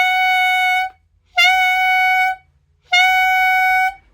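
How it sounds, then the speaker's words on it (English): Three sustained, bright reed tones from a clarinet mouthpiece and head joint blown with a beginner embouchure, each held about a second with short silent gaps between them, loud and close. "blowing some air into the head joint will sound like this"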